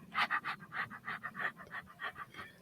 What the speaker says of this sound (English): we just want to hear him breathing